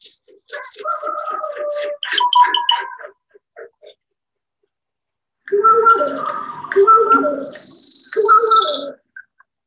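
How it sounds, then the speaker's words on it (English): Great horned owl calling in two bursts of deep, soft hoots with some higher warbling tones, separated by a few seconds of silence. "Great horned owl."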